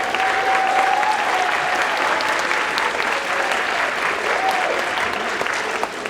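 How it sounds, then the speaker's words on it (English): Warm, sustained applause from an audience at a middle school band Christmas concert, honoring the band boosters; a continuous wash of clapping that tapers slightly near the end. "Can we give them a round of applause, please?"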